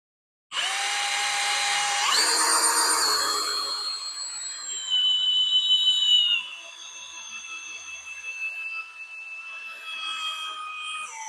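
An electric drill spools cable onto a North Country Armory GC-3000 crane, its motor whining loudly in sustained high tones that shift pitch as the speed changes and continue for several seconds.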